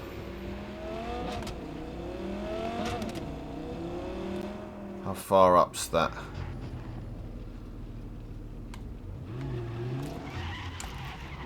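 A stolen car driven in Cyberpunk 2077 revs its engine steadily, with a short, loud tire-skid burst midway, while a person talks briefly over the driving.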